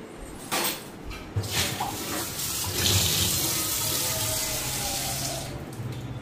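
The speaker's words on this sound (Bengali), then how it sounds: "আর একটু জল দিয়ে দিই" Tap water runs steadily into a kitchen sink during cooking, a continuous broadband splashing rush with a few soft knocks of pots nearby.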